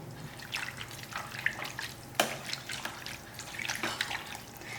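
Water is poured into a pot of mutton being cooked in bulk for a large batch of gravy, a steady splashing trickle with a few louder splashes, close by and with no talking.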